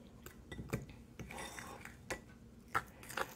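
Spoon stirring wet ingredients into muffin batter in a bowl, with soft scraping and scattered light clinks of utensil against the bowl, quiet and close with no talking.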